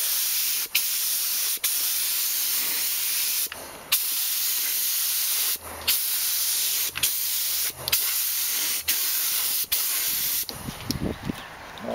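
A spray gun hisses gold two-stage acrylic enamel onto a 1987 Yamaha VMAX with the paint feed turned down, in long steady bursts broken by short pauses and a scuffle of handling near the end.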